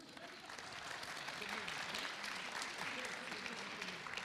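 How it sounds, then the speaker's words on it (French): Audience applause at a French panel debate on artificial intelligence, a steady, fairly soft clapping from a crowd that keeps going throughout, with some voices mixed in. "je vous demande d'applaudir très fort les 2 interlocuteurs"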